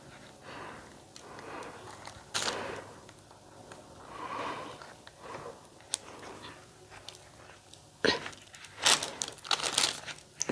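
Flexible candle molds being folded down and pushed up from the bottom to release finished candles, giving soft crinkling, squeaking rubbery handling noises in bursts, louder toward the end, with no talking.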